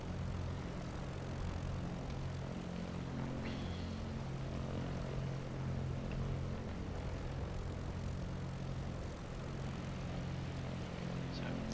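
A Piper PA-28 light aircraft cruising in flight, its propeller engine giving a steady, even drone with a constant low hum throughout, heard from inside the cabin.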